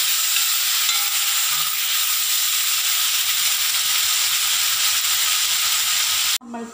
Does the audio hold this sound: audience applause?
no